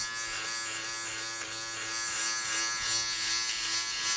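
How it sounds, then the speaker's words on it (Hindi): An AGARO Royal grooming kit trimmer with its shaver attachment runs with a steady, high electric buzz up close, holding a constant hum throughout. "तो ये हमारी आ गई 0 नंबर वाली अटैचमेंट, जो इसको हम शेवर भी कहते हैं"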